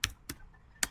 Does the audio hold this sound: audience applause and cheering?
no